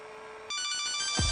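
Kyocera phone ringtone in a commercial, a bright electronic ringing tone that begins suddenly after a softer lead-in and rings loudly and steadily, with a low thump near the end.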